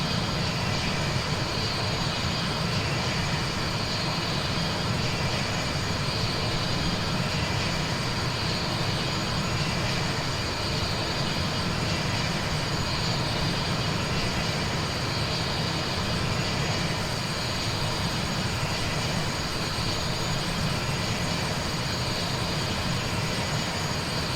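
Boeing 727 jet engines in flight in a flight simulator make a loud, steady, unbroken roar with a constant hum and high whine that holds level throughout, with no speech.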